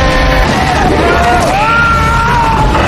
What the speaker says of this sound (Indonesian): membuat Francis mengeluarkan suara ultrasoniknya